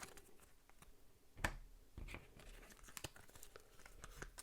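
Quiet papery riffling and clicks of small game cards shuffled during a tabletop wargame, with a sharper snap of cards near the start and more soft shuffling rustles following, close up, no talking.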